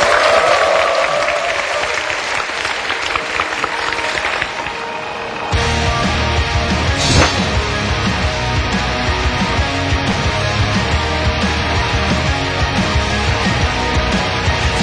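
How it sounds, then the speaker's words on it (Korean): A Korean talk-show audience claps in a broad, steady wash for several seconds before the clapping cuts off and music takes over for the rest. "일단은 박수 한번 드려야 될 것 같아요."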